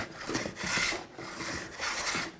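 Tool swipes rasp along the edge of a wooden plank on a TotalBoat Sport Dory build, about four broad scraping strokes in a steady back-and-forth rhythm, close and moderately loud with no talking.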